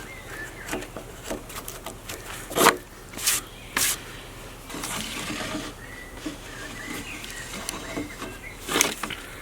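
A narrow wood chisel pares a heavy log beam during repair of a wooden house, making close, irregular scraping and rasping strokes with a few sharper bursts and quiet gaps between them.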